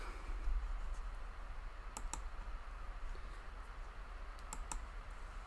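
Computer keyboard clicks and typing taps, a few sharp isolated clicks standing out over a steady low hum and background hiss, fairly faint and without talk.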